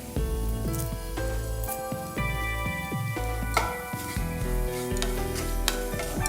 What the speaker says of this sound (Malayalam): കരിഞ്ഞു പോവാതെ നല്ലവണ്ണം ഇളക്കിക്കൊണ്ടിരിക്കണം.